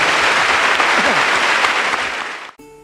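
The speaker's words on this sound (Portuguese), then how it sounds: "aplauda o Senhor" Loud, dense applause from a church congregation, continuous clapping that holds steady before fading and cutting off abruptly, followed by a brief musical tone.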